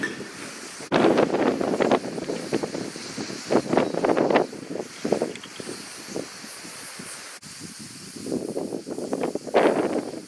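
Gusty wind on Mount Parnitha buffeting the microphone in loud irregular bursts, rising and falling over several seconds.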